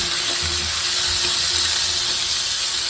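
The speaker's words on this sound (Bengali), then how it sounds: "আর এখন সিম ভাজি করে দিচ্ছি, সিম দিয়ে আর ছোটো আলু দিয়ে ভাজি করে নেব।" Flat beans and small potatoes frying in a pan, a loud steady sizzle up close with a few low clunks of stirring.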